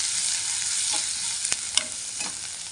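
Turmeric being stirred into fried onions in a pan for a Maharashtrian mutton dish: a steady high frying sizzle with a few sharp spoon scrapes and clicks against the pan, close and fairly loud, no voices.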